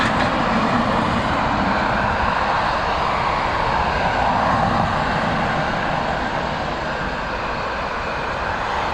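An Emirates airliner at Dublin Airport gives a loud, steady, broadband jet roar that holds its strength for the whole stretch, with no voices over it.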